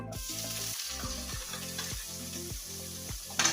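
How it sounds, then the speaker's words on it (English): Onions frying in a pan after eggplant for eggplant parmesan, a steady broadband sizzle with several low thumps from stirring or scraping, close and moderately loud, no talking. "So now I'm going to add my onions to this pan."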